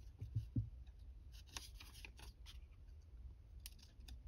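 Scissors snip through paper for a junk journal envelope craft, a few quiet, close cuts early on followed by light crisp paper rustles, with no talk.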